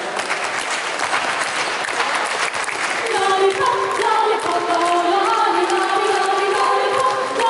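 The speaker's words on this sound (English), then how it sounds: "Clap along together." An audience at Christmas caroling claps and cheers, first as loose applause with shouts, then joined by steady tonal singing or music over continuing clapping, loud and close.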